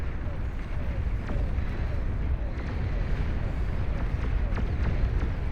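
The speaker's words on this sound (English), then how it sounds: "We have demons now coming up and running, spewing their twin flame cannons, firing away at whatever they can" Demon units in the Beyond All Reason strategy game fire twin flame cannons, a steady roaring, rumbling stream of bursts and crackling blasts beneath a talking commentator.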